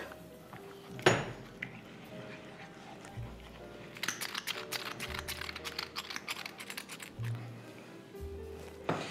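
Scraping and clinking of a utensil against a hot pan as eggs are scrambled, with brisk rhythmic stirring in the second half and a sharp clank near the start.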